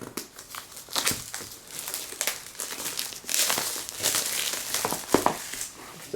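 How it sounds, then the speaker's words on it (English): Plastic packaging wrap around a MacBook Air Superdrive box crinkles and crackles as a knife cuts through it, an uneven close run of crumpling bursts and sharp rustles, no voices. "at least try and cut the plastic"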